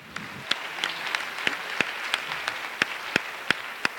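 Audience applause at the Incroyables Talents 2019 talent show, a crowd clapping steadily, with a few louder distinct claps standing out at fairly regular intervals.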